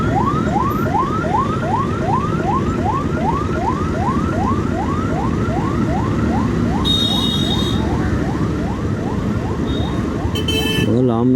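An ambulance siren wails in fast, repeated rising sweeps on a road near Hosur, loud and close over traffic noise, with a couple of sharp horn blasts near the end.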